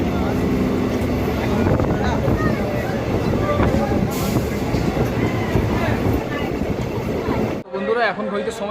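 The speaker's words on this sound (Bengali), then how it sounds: "একশো তেরো কিলোমিটার অতিক্রম করে আমাদের ট্রেন এসে দাঁড়িয়েছে বর্ধমান স্টেশনের দু নম্বর প্ল্যাটফর্মে" A passenger train on the Kolkata to Tarapith line rolls into Bardhaman station, a loud, steady rumble and clatter heard from on board that cuts off sharply near the end.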